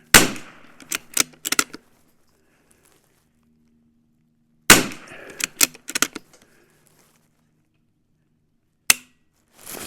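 Outdoor .22 rimfire rifle shots with CCI standard velocity ammunition, sharp cracks in short bursts of several closely spaced shots, then silent pauses, with one lone shot near the end.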